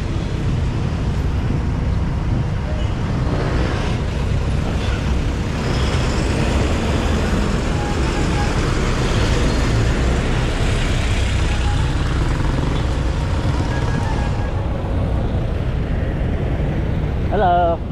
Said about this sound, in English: Gotta be careful with the buses now, these guys.